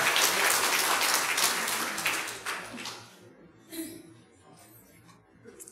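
A crowd applauds at a church education department graduation ceremony, a few seconds of strong clapping that fades out, leaving scattered claps and quiet room noise.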